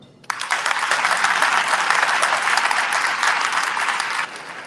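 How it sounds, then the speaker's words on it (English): Sustained applause from an audience at an alumni class reunion and community celebration, a dense wash of many hands clapping that starts abruptly and holds steady for several seconds before easing off. "Another round of applause for her."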